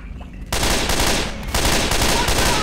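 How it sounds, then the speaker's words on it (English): Automatic gunfire from a machine gun in the video game Left 4 Dead 2 rattles out in two loud sustained bursts, a short quiet gap before the first and a brief break between them. "machine gun down here if anyone wants to use it"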